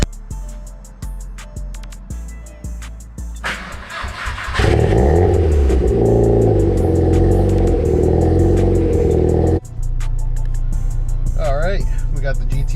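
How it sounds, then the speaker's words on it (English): A Volkswagen GTI 1.8T is cold-started: the starter cranks in a steady series of churning bursts, the engine catches with a loud rev and settles into a close, rough idle, and a person talks over it. "Got the GTI started. It's just warming up a little bit."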